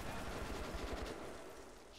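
Heavy gunfire in the video game Metro 2033 Redux rattles in a loud, continuous burst of rapid shots. It fades slightly toward the end, then a final sharp crack sounds.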